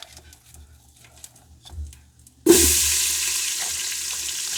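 Onions dropped into a hot pan after frying bacon, quiet clinks and rustling at first, then a sudden loud burst of sizzling that settles into a steady, close frying hiss.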